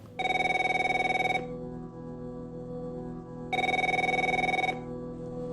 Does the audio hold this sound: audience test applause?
no